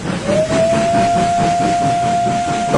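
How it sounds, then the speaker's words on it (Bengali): A coal-fired steam locomotive pulls into a station, its long, steady whistle sounding over a loud hiss and rumbling train noise throughout. "তখন চলতো কয়লার ইঞ্জিন। ট্রেনটা একরাশ কালো ধোঁয়া আর ছাই উড়িয়ে ঢুকলো ঝাঁঝাগঞ্জ নামক এক স্টেশনে।"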